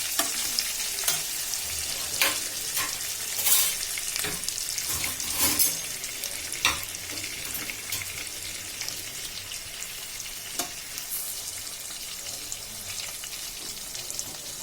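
Fish crackles and sizzles steadily in hot oil in a pan, with a dense frying hiss and scattered sharper pops and clicks throughout, no voices.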